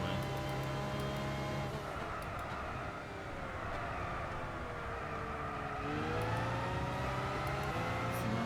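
A Tommykaira ZZII racing car engine in the video game Gran Turismo 6 at Silverstone National drones steadily with a sticking throttle, its pitch dipping and climbing as it revs, with talking over the top.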